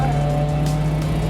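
A classic race car on a circuit under throttle: a loud, steady engine drone with a strong low hum, brief and continuous, with no change in pitch.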